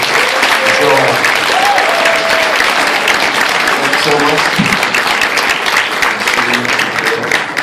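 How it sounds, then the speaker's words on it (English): Loud, steady applause from a cinema audience after a film editor's talk fills the whole stretch, with a few voices speaking briefly over the clapping. "big round of applause"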